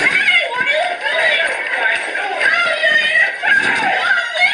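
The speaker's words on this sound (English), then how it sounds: "Women screaming, children screaming, complete and total mayhem." Women and children scream in total mayhem outside a church as a pastor is tased, a dense, shrill, overlapping wall of panicked voices that carries on without a break.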